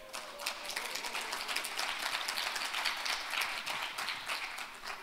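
An audience at the 2018 Jeonbuk International Finance Conference session applauds, a dense, even patter of many hands clapping, heard from a distance, fairly faint and sustained throughout without speech.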